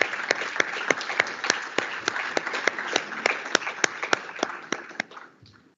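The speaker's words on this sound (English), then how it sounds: "Please put your hand together and let's give them also a big round of applause." Audience at an E-Summit valedictory ceremony applauds in a modest hall, individual sharp claps standing out from a steady crowd patter that fades away toward the end.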